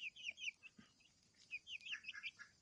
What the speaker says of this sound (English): me and my cute chicks in the middle of the night